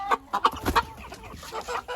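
A salmon-coloured Faverolles hen clucks close by in a chicken coop, several short bursts coming in quick succession followed by softer, scattered clucking.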